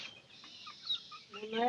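Hens and chicks of a small backyard flock cluck and chirp in short, close bursts, with soft calls rising toward the end over a quiet outdoor background.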